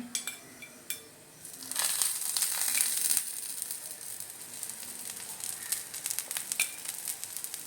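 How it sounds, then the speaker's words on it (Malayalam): Ada dosa batter frying in oil on a hot pan, a steady close sizzle that swells around the middle with light crackling and a few utensil clicks, no voices. "ഇതും ചുവന്ന് വരട്ട് നല്ല കുറച്ച് എണ്ണ ഇവിടെ ഒഴിച്ച് കൊടുക്കാം."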